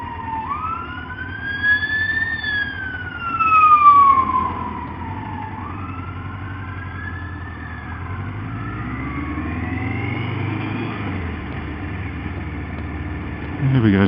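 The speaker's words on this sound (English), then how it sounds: "ambulance coming through" An ambulance siren wails as it passes a motorbike rider on the road, its rising and falling tone clear and fairly close over steady engine and road noise.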